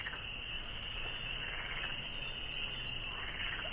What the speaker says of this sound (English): All you can hear is frogs and crickets in the woods.